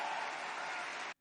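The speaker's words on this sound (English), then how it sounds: "And the crowd went nuts." A crowd at a speech breaks into a dense, steady wash of applause and cheering that holds evenly for about a second before cutting off abruptly.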